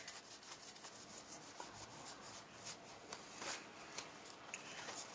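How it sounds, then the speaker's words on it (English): A deck of tarot cards is shuffled by hand, giving faint, steady papery rubbing and soft riffling flutters close to the microphone, quiet and continuous with no talking. "So, just gonna shuffle the deck and ask Spirit for guidance."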